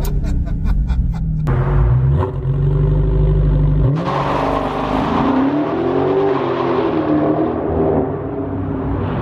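A 2023 Dodge Charger Hellcat engine revs loudly and launches into hard acceleration using launch control, the roar climbing through the gears, close and continuous.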